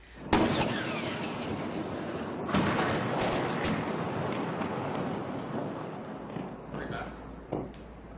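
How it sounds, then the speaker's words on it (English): Artillery shells land in Gaza at night as a heavy, sustained roar of rumbling blasts, with sharper bursts breaking through near the start, in the middle and toward the end. "we are hearing artillery shells constantly landing in Gaza tonight"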